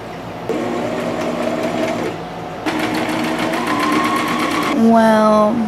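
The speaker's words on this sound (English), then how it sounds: "We're gonna sew them up." A sewing machine stitching fabric pieces together runs in a loud, rapid rattling whir, pausing briefly and starting again, with a voice speaking over it near the end.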